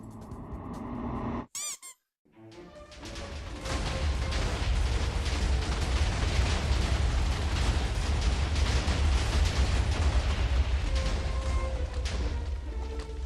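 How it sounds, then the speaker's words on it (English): Video game TNT blasts: a short squeak and a few pops, a brief silence, then a massive explosion building into a loud, continuous rumbling roar that carries on to the end. "I decided to go for one final massive explosion"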